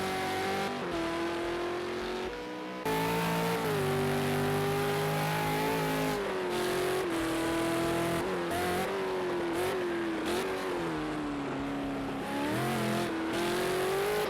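Supercars racing at Laguna Seca in a racing video game, engines roaring and revving loudly with shifting pitch as cars accelerate and downshift, continuous and close, no talk.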